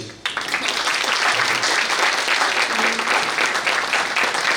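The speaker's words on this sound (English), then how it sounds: "please give a huge round of applause" Guests at a ghazal night honoring Rewa Kumar break into a sustained round of applause, dense and even clapping from a full room that starts abruptly and holds steady throughout.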